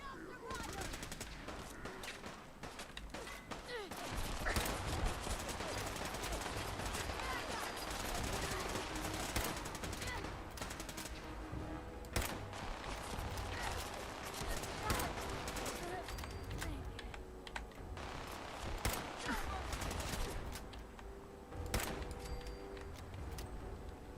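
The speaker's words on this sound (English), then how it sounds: "Minigun." A minigun fires in Fallout 4, rattling in long dense bursts of rapid gunfire, loud and near, with explosions and heavy combat noise mixed throughout.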